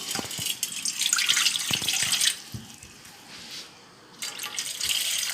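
Pearl millet being rinsed and stirred by hand in a bowl of water, with sloshing and swishing water and a few sharp knocks, a brief quieter pause midway, close and without talk.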